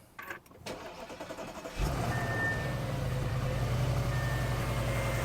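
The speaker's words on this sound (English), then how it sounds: "Now you gotta fire up the car." A 2023 BMW M240i being rebuilt after a wreck cranks briefly and fires up, settling into a loud steady idle close by, with some clatter before the start.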